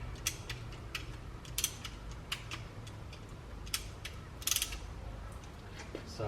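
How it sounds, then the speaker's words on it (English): Caliper pistons on a Nissan Skyline rear brake are pushed back with a ratchet, making faint repeated clicking ticks in an irregular rhythm over a low background hum. "So what I'm doing is ratcheting the pistons back."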